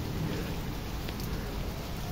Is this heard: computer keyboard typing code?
no